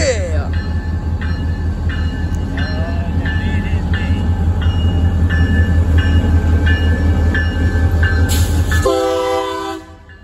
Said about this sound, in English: That was a young man driving that train.